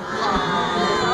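A dense, steady crowd roar with children's shouts and cheering at a theme-park attraction, loud and continuous for about a second, with no single voice standing out.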